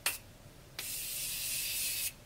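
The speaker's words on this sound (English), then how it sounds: "I'm going to finish it off with some Morphe Setting Spray." A short spritz of Morphe setting spray, then a longer continuous hissing spray lasting over a second, close up.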